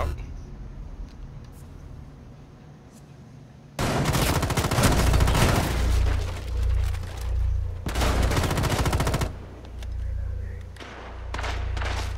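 Bursts of heavy automatic gunfire in the Rainbow Six Siege game, map Oregon, in team deathmatch: long loud rattling volleys after a quieter opening, with a few pauses between them.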